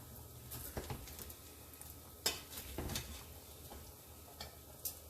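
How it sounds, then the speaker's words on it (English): Rice being folded with a spoon in a pot for Puerto Rican arroz con pollo, giving quiet, irregular scraping and clinking strokes against the pot, fairly close, with no talking. "Just folding the rice from the edges"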